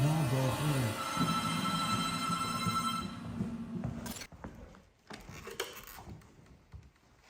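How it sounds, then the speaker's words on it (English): A phone rings in a house during an apparent haunting, the tone loud and sustained for about four seconds with harmonic layers before cutting off into quieter room noise and faint clatter. "It just said that it made the phone ring."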